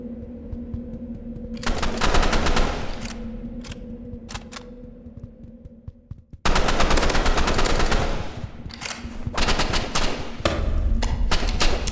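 Rapid bursts of automatic gunfire in a video game crackle loudly in long sustained volleys, with brief pauses between, set against a steady electronic hum.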